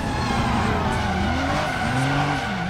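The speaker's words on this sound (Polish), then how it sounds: "Widzicie, takie ślizgi robię długie, prawda?" Car tires skid through a long power slide in Driver San Francisco, a continuous loud squeal with wavering pitch over steady engine roar, lasting the whole stretch without pause.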